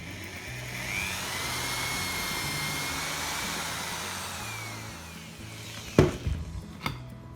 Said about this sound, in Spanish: lo primero que tenéis que hacer es clavar bien la punta y luego ya taladrar